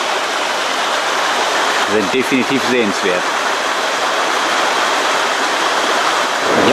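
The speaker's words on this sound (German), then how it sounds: "Selbst die kleinen Wasserläufe hier so am Wegesrand," Small mountain streams run beside a hillside path in Norway with a constant, close, broadband rush of water. Someone speaks briefly over it.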